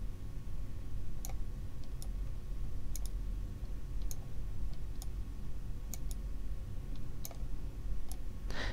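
Mouse clicks while drawing lines in Electric Quilt software, a steady series of sharp, close single clicks spaced about a second apart over a constant low hum, with no talking.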